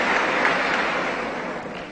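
Sustained applause from a university audience in Havana fills the moment, thick and even, tapering slightly toward the end with no speech over it.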